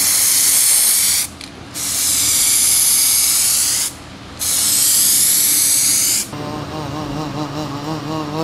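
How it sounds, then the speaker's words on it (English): Rattle can spraying filler primer onto bodyworked areas of a car fender in three long, loud, close bursts with short gaps, followed by a softer, fluttering tail after the last pass. "I could put a thick coat of filler primer over just the bodyworked area."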